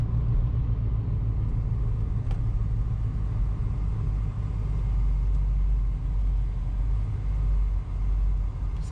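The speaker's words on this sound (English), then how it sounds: "if you just kind of want to see what normal driving is like in this POWERTRAX" A vehicle fitted with a POWERTRAX No-Slip AMC20 locker drives along, heard from inside as a steady, loud low rumble of engine and road noise with no clunks or pops.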